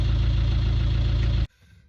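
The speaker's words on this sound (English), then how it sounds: "a bit of engine running action on this 1998 Defender 90 Wolf 300 TDI" The 1998 Land Rover Defender 90 Wolf soft top with its 300TDi diesel engine runs loudly and steadily at idle close by, then cuts off abruptly, leaving near silence.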